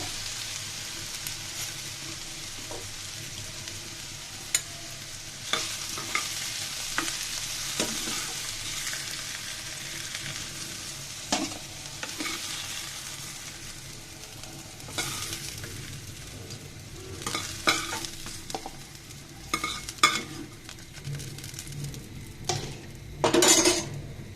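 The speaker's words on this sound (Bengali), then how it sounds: "দেখুন বন্ধুরা আমার বেগুনগুলো কিন্তু ভাজা হয়ে গিয়েছে, দেখে হয়তো বুঝতে পারতেছেন। এর পর্যায়ে আমি বেগুনগুলোকে উঠিয়ে নিব।" Fried eggplant slices are stirred and lifted out of sizzling oil in a pan, a steady hiss under repeated clinks and scrapes of a utensil against the metal, growing busier toward the end.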